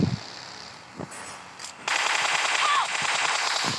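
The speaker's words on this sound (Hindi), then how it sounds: "यहाँ पे हम लोग पागलों की तरफ फायरिंग कर रहे थे" In PUBG Mobile, M416 and MK14 gunfire rattles out in rapid automatic bursts, with a few isolated shots first and then a sustained loud volley near the end.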